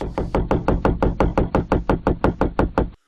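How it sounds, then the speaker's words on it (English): A fast run of hard knocks on a van at night, a dozen or so sharp, close raps at an even pace, ending suddenly into silence. "Remember folks, knocking is just knocking."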